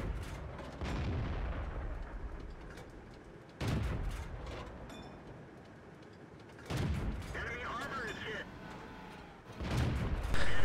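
Tank guns fire in a game battle on the Lakeville map, heavy booming shots landing at intervals of a few seconds over a constant rumbling battlefield background.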